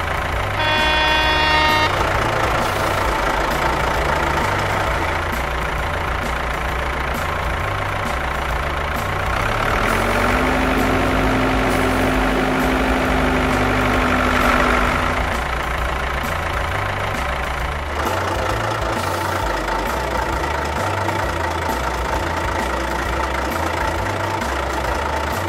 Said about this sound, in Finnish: Autot ajavat teihin.